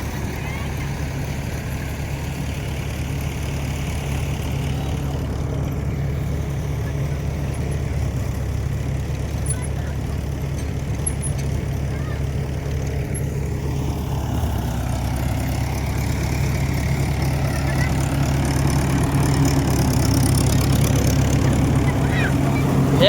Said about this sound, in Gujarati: ટ્રેક્ટર જાય છે હવે ભર લેવા.